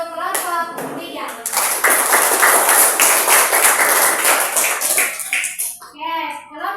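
A class of students claps for group 3 in a school lesson, a dense, loud round of many hands lasting several seconds, with a voice speaking before and after the clapping.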